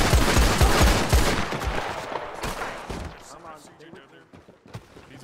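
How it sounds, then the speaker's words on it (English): Rapid bursts of gunfire in a Red Dead Online roleplay shootout, loud and clustered at first, then thinning into scattered shots as the exchange fades, with people talking over it. "Where them shots at?"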